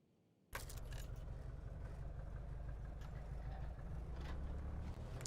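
A bush plane engine in Dead Stick throttles up abruptly from near silence into a steady, loud, droning roar that holds evenly for several seconds with no talk.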